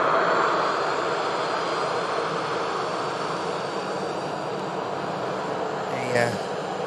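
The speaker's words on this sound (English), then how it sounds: "The TUI Dreamliner for Punta Cana is going to be the next departure." A TUI Boeing 787-8 Dreamliner departs Manchester Airport in thick fog, its engines giving a sustained broad roar that stays fairly steady throughout, with talk in the background.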